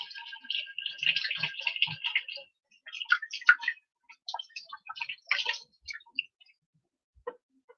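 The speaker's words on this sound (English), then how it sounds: "And then just wash my hands" Hands washed under running water at a kitchen sink, splashing and rubbing in bursts with short gaps and a few drips at the end, close and fairly quiet, without speech.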